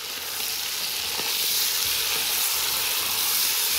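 Lamb pieces sizzle and fry in a hot pan while being stirred for a navarin stew, a steady bright crackling hiss with a few soft scraping stirs underneath.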